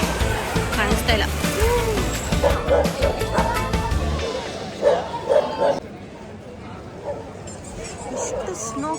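A puppy yips and barks in short bursts on a snowy, rainy hillside near Gangtok, Sikkim, heard amid people talking and outdoor ambience.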